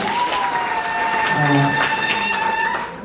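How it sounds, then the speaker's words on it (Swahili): A church congregation at a graduation service claps for Jesus, a sustained crowd applause heard under a voice talking over it, with faint cheering. "Naomba tumpigie Yesu makofi mazuri."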